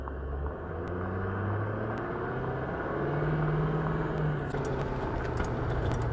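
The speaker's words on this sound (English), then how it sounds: "This test consists of accelerating from a dead stop up to 15 miles per hour in a straight line at a moderate acceleration." An RV weighing about 7,600 pounds pulls away from a dead stop to 15 mph at moderate acceleration, giving a close, steady engine rumble and drone with a rising tone as it gathers speed.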